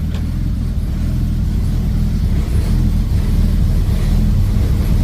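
Loud, sustained engine note from a Ford Falcon XB hardtop, close by and steady throughout without clear peaks, no voices over it.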